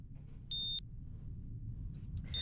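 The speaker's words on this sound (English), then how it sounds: "the old machine issues an alarm, signaling that his patient's vital signs are wavering" An old medical monitor in a surgery scene of the video game Reverse: 1999 sounds a single sustained high electronic alarm beep, with a couple of fainter tones after it, over a low steady background hum.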